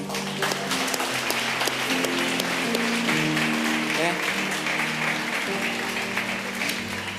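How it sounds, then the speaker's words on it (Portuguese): Congregation applauding during a church worship service, a steady wash of clapping that continues for several seconds under voices and sustained music. "Você pode aplaudir o Senhor?"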